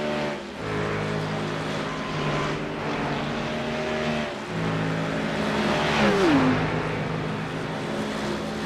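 Race cars in a Le Mans endurance racing video game roar down the long Mulsanne straight, a BMW slipstreaming behind a Mustang and Mercedes, with steady loud engine drone, layered passing cars and a rising gear-shift whine near the end.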